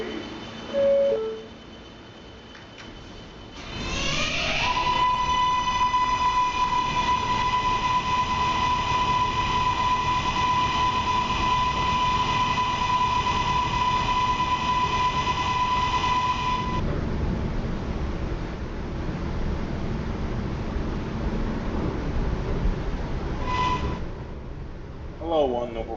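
A Q subway train bound for Myrtle Avenue runs in a video game, with a loud sustained rumbling ride and a long steady electric whine that cuts off, then a brief tone; a voice talks at the start.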